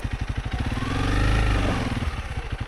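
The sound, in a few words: dirt bike engine put in gear on a steep slope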